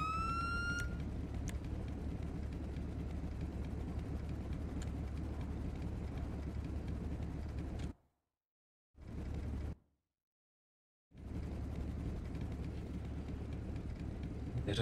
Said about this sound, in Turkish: Memur Efe, sirenleri kapat lütfen.